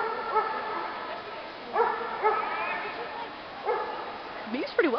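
Big dog giving a handful of short barks and whimpering yips at irregular intervals, fairly close, against a faint background.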